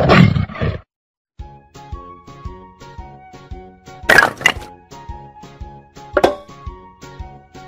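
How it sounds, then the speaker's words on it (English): A tiger's roar plays as an animated puzzle effect: a short opening burst, a pause, then repeated crisp plops and cracks, with a louder roaring surge in the middle. "Tiger."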